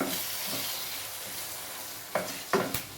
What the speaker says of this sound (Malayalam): ഇനി പതുക്കെ ഒന്ന് ഇളക്കി കൊടുക്കണം.